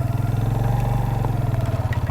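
A motorcycle runs on a slippery, muddy road after rain, its engine chugging in a steady rapid pulsing thump, loud and close, with no talking.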